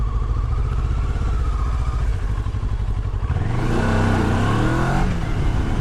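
A motorcycle accelerates hard on the road, enough for the front wheel to lift. The engine roars loud and close, and its pitch climbs steeply partway through. No one speaks.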